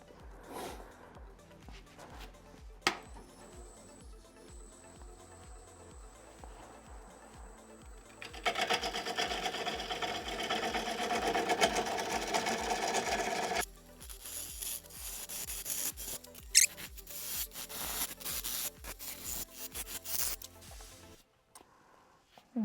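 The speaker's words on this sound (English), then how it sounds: "Alright, so we're going to turn this into a tenon." Wood lathe turning a tenon on a silver maple platter blank, with a steady broadband cutting rasp that swells louder in the middle, eases, then returns before stopping near the end.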